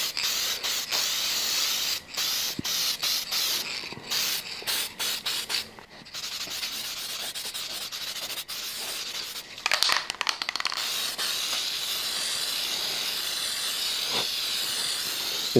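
Aerosol spray paint hisses in bursts and longer sustained passes as one thick coat goes onto a Honda B18 LS-VTEC engine, close and steady with brief pauses between sprays.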